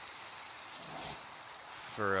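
Steady rain pouring in Minecraft, a soft continuous hiss of falling drops, with a voice speaking briefly over it at the end.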